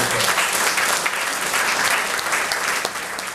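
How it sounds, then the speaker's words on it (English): A crowd at a class of 1977 high school reunion gives a round of applause, loud, dense and steady clapping that fades slightly toward the end. "So if you just give a round of applause to Terry and the next people."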